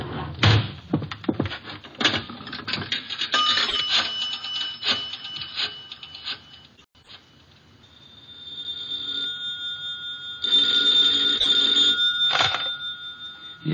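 An old-fashioned telephone bell rings in repeated bursts mid-distance, with clattering handling noises and brief knocks in the first half before steadier ringing tones take over.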